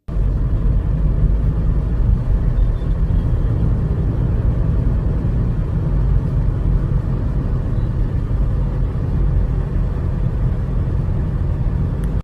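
Constant low engine rumble and road hum from inside a vehicle moving through city traffic, steady and fairly loud throughout with no voices.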